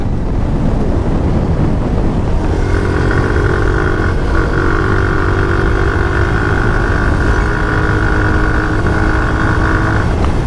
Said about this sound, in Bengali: বাইকের টানটা উঠতেছে ভাই